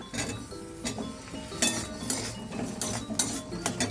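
Potato pieces dropped into a metal pan for a fish curry, giving a run of bright clinks and clatters against the metal at an irregular, steady pace, close by and moderately loud.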